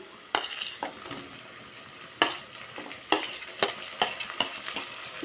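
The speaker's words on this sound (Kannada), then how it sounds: "ಈರುಳ್ಳಿ ಸ್ವಲ್ಪ ಫ್ರೈ ಆಗಿದೆ ಈಗ ಟೊಮೆಟೊ ಹಾಕ್ತಾಯಿದ್ದೀನಿ" Onion and tomato fry in a pan, with scraping spatula strokes at irregular intervals over a soft background sizzle, close by and with no speech.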